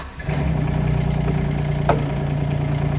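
A Bull 12-X mini excavator engine runs at a steady idle, a loud, constant low diesel rumble with one brief metallic click partway through.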